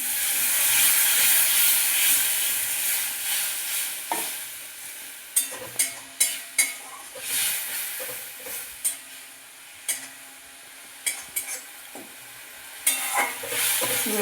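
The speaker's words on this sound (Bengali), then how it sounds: "আমি যে কড়াইটা সেদ্ধ করেছি সেই সেদ্ধ জল একটু দিয়ে দেবো" Chicken masala cooking in a wok with ginger-garlic paste and ginger-cumin paste, as boiled water is added. A steady sizzling hiss runs throughout, broken by sharp scraping and clattering stir strokes in the later half, with no talking.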